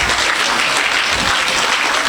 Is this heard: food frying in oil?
no